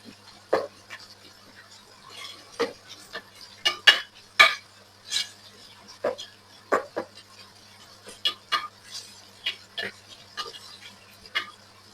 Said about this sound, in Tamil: நல்லா கிளறி விட்டு நாங்கள் நல்ல கோல்டு கலருக்கு இந்த வெங்காயத்தை வதக்கி எடுக்கணும்